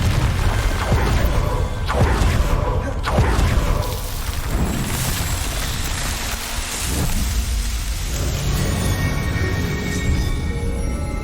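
Fiery blast of the Confringo spell in the video game Hogwarts Legacy, a deep booming burst early on that rolls into a long crackling, rain-like rumble filling the rest of the scene.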